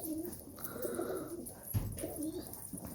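Tumbler pigeons coo softly in a coop in low, rolling calls, a few repeated phrases close by with a brief thump in the middle.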